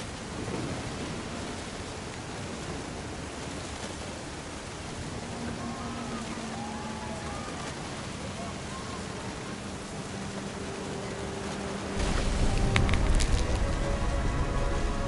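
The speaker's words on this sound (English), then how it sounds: "The thunder sounded much too close and full of angry power." Thunderstorm in the game What Remains of Edith Finch: steady heavy rain hissing throughout, then a loud rumbling thunder crash near the end, with a voice speaking faintly underneath.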